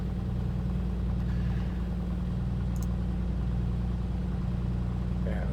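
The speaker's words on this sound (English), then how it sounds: "Now her shake and shudder into life." Piston engine of a Piper Comanche 250 running in a flight simulator just after start-up, a steady loud low drone and rumble held near 1200 RPM, continuous and close, with no voices.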